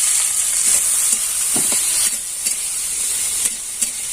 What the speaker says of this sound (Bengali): আলুটা একটু ভাজা ভাজা হয়ে গেছে